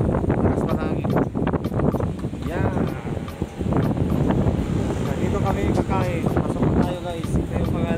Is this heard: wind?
yes